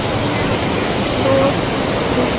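Steady broadband rush of the Patalganga river flowing through an ashram grounds near a built footbridge, full even in high summer; a continuous, moderately loud wash with no distinct splashes, and a faint voice briefly under it.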